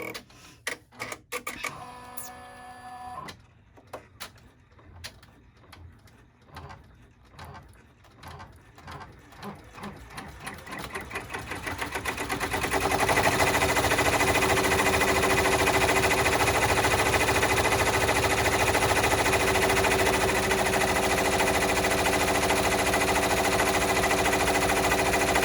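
Sewing machine stitching a vinyl Stars and Stripes clutch: a short run of separate mechanical clicks and stitch bursts, then a steady loud rattling hum of continuous machine stitching for the rest of the clip, close and without talk.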